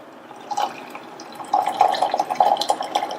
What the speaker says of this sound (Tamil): இந்த வெந்த ஜவ்வரிசியோட நம்ம வத்த காய்ச்சின 1 கப் பாலை சேர்க்கிறேன்.